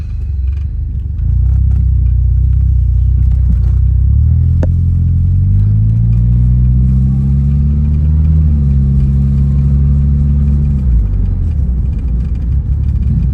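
Car engine fitted with a 3 inch intake and air can modification, automatic transmission, a loud steady close rumble that rises in pitch through a gear as it accelerates, then drops back.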